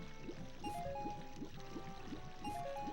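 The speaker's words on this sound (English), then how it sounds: "We're gonna go in the water" Water in Zelda: Ocarina of Time, a soft rhythmic sloshing of swimming strokes repeating at a steady pace beneath a faint melodic game chime. The sound is quiet and there is no talking.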